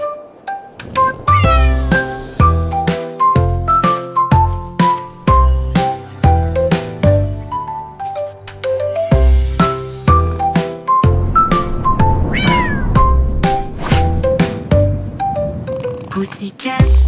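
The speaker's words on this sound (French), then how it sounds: "Un chat royal de rêve au clair de lune." Repeated cat meows rise and fall in a rhythmic, sing-song pattern over a jingling children's nursery tune, loud and close throughout.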